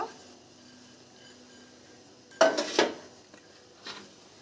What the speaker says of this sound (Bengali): খুন্তি দিয়ে গুঁড়িটা মাখতে হবে